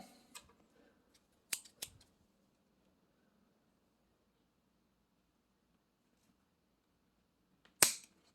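Scissors cut a plastic tube for a fishing rig, giving a few sharp, close snips, a pair early on and one louder snip near the end, in a quiet room.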